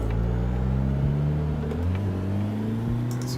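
A Nissan S15 drift car in Assetto Corsa, racing on a forest track, its engine droning loud and steady while the pitch shifts up and down through revs and shifts, with tire noise underneath and no voices.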